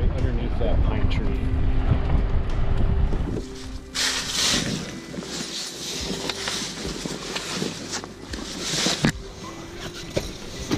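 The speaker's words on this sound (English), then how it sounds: "of course the wind switched direction. Now it's coming from almost the east / northeast. And the leaves are super loud." Wind gusts loudly across the microphone on a driveway near a pine tree, with dry leaves rustling hard and a broad roar that rises and falls, swelling again midway through.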